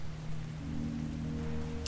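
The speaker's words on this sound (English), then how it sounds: "Why is the rain coming here?" Steady rain hisses inside the 2019 Resident Evil 2 remake, a soft continuous patter with a low hum beneath and no voices.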